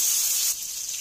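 Tomato, ginger, garlic, chillies and cashews frying together in a pan, a steady bright sizzle that softens slightly halfway through the short stretch.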